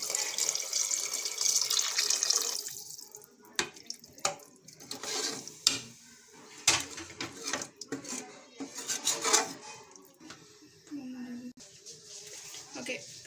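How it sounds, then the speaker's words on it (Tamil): Water pours steadily into a cooking pot of rice at first, then gives way to splashes, clinks and scraping of the pot, while a person talks over it. "அதனால் 3 கிளாஸ் தண்ணி ஊற்ற போகிறேன்."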